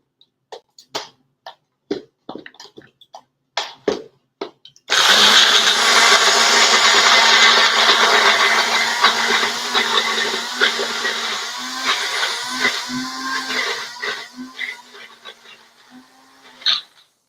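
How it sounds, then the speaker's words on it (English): A kitchen blender whirs loudly and steadily for about ten seconds as it purees an olive oil pasta dressing, its pitch shifting slightly as the mix thickens. Scattered clicks and handling knocks come before and after. "I'm going to put it right in my blender and stop talking."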